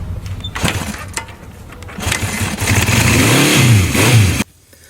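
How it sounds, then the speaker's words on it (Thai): A 1969–1978 Honda CB750 four-cylinder motorcycle engine revs up loudly and close, climbing through two rising throttle sweeps before cutting off abruptly into near silence, with no voices. "มันคือมอเตอร์ไซค์ในตำนานของญี่ปุ่น ที่เกิดมาเขย่าวงการบิ๊กไบค์ทั่วโลก"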